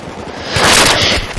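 Gunfire during a Battlefield 3 multiplayer match, a dense, loud burst of rapid shots and blasts swelling to a roar over about a second, with no talk.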